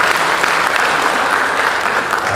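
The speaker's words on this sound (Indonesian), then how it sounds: "Tepuk tangan." An audience at the launch of Universitas Koperasi Indonesia, formerly IKOPIN, claps in a full, steady round of applause that stays loud and dense for the whole moment.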